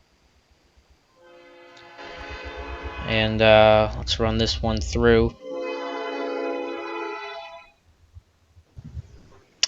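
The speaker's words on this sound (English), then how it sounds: "Yeah, we hear the train." A passing train sounds a long, sustained horn that swells and holds for several seconds, with someone talking over it in the middle before it fades and the room falls quiet.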